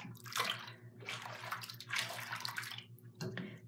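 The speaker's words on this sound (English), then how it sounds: "she's going to turn on the water and create her some bubbles" Water running into a bath to make bubbles, surging in rushing bursts with brief lulls between them, close and moderately loud, with no one speaking.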